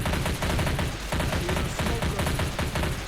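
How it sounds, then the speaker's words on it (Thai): A bot fires sustained automatic gunfire from behind in Left 4 Dead 2, a dense, loud, continuous rattle of rapid shots with no break across the whole stretch. "บอดมันยิงอยู่ข้างหลังอะ"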